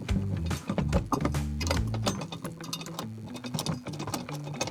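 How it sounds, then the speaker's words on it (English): 6x15 Allen bolts with flat washers are driven in to mount steel shelf bases in a Toyota Land Cruiser 250 cargo area, making a loud, continuous whirring and ratcheting mechanical buzz with rapid clicks. "Grab the 6x15 Allen bolts with flat washers and mount the steel bases on the left and right."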